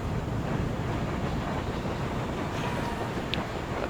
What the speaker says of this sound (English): Get on the tram.